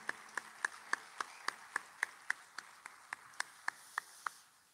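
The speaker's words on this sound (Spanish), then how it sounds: "pido un fuerte aplauso para el señor Sergio Melgarejo, de los Pagos de Necochea, maestro de ceremonia, fuerte el aplauso para él" Audience clapping for a master of ceremonies at a folk performance, rhythmic and sparse: about sixteen sharp, evenly spaced claps, fairly quiet and in the open, fading at the end.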